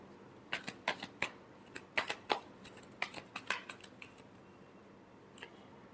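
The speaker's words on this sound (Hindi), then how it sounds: "Last shuffle." Tarot cards being shuffled by hand, a series of crisp riffling flicks and taps in irregular clusters, close and clear in a quiet room.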